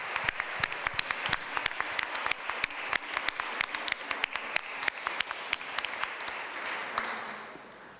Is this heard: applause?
yes